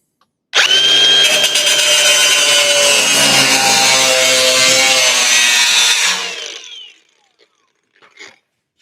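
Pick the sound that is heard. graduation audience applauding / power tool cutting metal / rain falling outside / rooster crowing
power tool cutting metal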